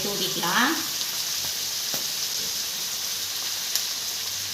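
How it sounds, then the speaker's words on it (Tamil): Medium onions, sliced lengthwise, sauté in butter on a tawa over chicken liver, giving a steady close sizzle with a few brief stirring scrapes and no talking. "நல்லா வதக்கி விடலாம். பொறுமையாக வதக்கி விடுங்க."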